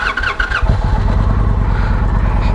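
A 2022 Indian Challenger Elite motorcycle with a Bassani 2-into-1 exhaust, Stage 1 air cleaner and 108 Power Plus engine cranks briefly, then fires and settles into a loud, close, deep rumbling idle, with no talking.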